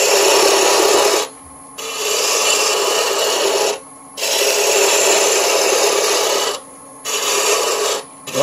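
A woodturning tool carves the handle of a wooden honey dipper on a spinning lathe, a loud, close, hissing scrape in long bursts of two to three seconds separated by short pauses, with no talk.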